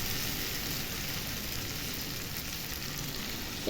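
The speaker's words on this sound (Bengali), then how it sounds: "এই যে ভালো করে দেখুন ভাজা ভাজা হয়ে এসছে।" Paneer frying in a pan gives a soft, steady, even sizzle that hisses on throughout, with a small clatter at the very end and no voices.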